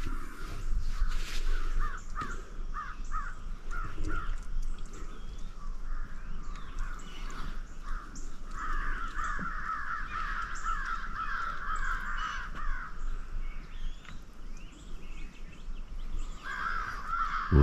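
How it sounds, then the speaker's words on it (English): Agitated crows caw repeatedly during an outdoor stroll, loud and fairly close. Harsh calls come in bursts and overlap for most of the stretch, and there is no speech. "What's them crows all upset about, Millie?"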